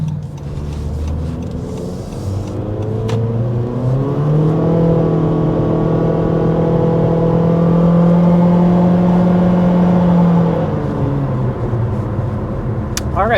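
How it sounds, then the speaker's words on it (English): A 2024 Honda HR-V Sport accelerating uphill, its engine note rising in a steady, smooth drone that swells and holds for several seconds before easing off, heard from inside the cabin, loud and continuous. "we're accelerating a little bit. Of course, we are climbing a hill here"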